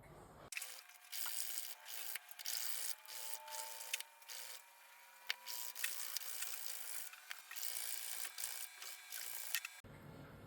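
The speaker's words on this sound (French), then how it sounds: "nous allons limer les bords des anneaux pour les rendre, pour leur donner un aspect plat et homogène" Small file rasping the edges of carved wooden rings, a steady dry scraping in continuous strokes with brief pauses, close and fairly quiet, no talking.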